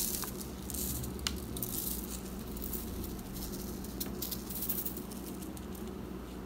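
Sugar sprinkled over tortillas: a soft continuous pattering and granular hiss with a few small ticks, steady and close, with no talk.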